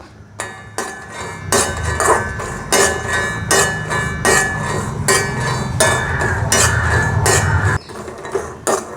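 Peanuts being dry-roasted in a pan give off repeated metallic scraping and clinking as they are stirred, a steady, fairly loud rhythm of hard knocks against the metal with no voices.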